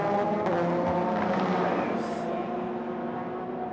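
Endurance race cars at speed in an FIA WEC race, a Ferrari sneaking past the number 92 Porsche, give a loud continuous engine roar with a rising whine as one draws alongside.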